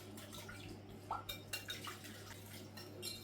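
A soy sauce, fruit juice and olive oil marinade being mixed in a bowl: close, wet clinks and scrapes of utensil against the dish come in a few quick bursts over a low steady hum, with no talking.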